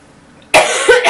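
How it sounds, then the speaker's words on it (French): A single sharp, loud cough bursts out after a short quiet pause, followed by a second rougher cough, close to the listener. "Excusez-moi, je vais tousser."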